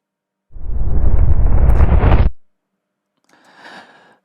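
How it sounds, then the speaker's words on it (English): A reversed explosion, a loud rumbling roar that swells and then stops abruptly in a sucking-in cutoff, followed by a faint brief crackly tail after a short silence. "This is an explosion reversed."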